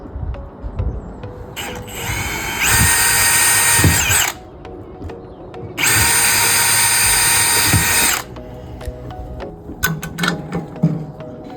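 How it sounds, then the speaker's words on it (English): A power drill whines in two sustained bursts, each a couple of seconds long, separated by a short pause, with light clattering of tools between and after, while drilling pilot holes to install a MorRyde Safe T Rail. "This one has 2 pilot holes that need to be drilled."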